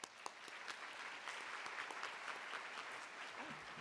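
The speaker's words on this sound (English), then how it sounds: "I think we can give them a round of applause." An audience at a university bioengineering graduation celebration gives a steady round of applause for graduating master's students, with dense, continuous clapping filling the room at a moderate distance.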